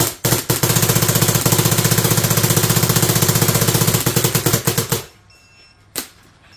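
A WGP Karni paintball marker loaded with very old paint fires a long, rapid, evenly spaced string of loud, close shots for about five seconds, then falls quiet before one last single shot.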